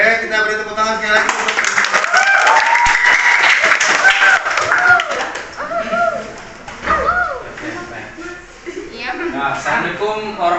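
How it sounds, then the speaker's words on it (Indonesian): Classroom applause from students at an art performance session, a dense, loud patter of many hands clapping together with voices and shouts mixed in throughout. "Kita beri tepuk tangan sekali lagi."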